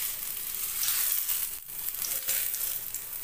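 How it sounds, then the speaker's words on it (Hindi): Potato rolls sizzle in hot oil on a flat griddle, a steady crackling hiss that stays close and even, dipping briefly in the middle, with no one talking. "अब इसको हम पर सेकेंगे। तेल अच्छे से गर्म हो गया है।"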